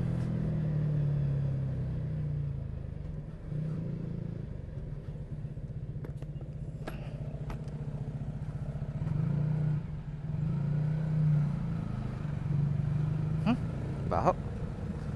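Road traffic near Bonifacio Global City, with a steady low engine rumble from cars and motorcycles idling and creeping along, brief clicks and a few passing vehicle sounds over the continuous hum.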